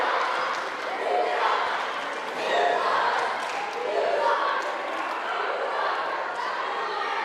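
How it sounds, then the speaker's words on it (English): Wrestling arena crowd roaring and cheering steadily throughout, a dense wash of voices with brief whistles and swells, while a commentator talks over it. "This crowd loving every minute of it."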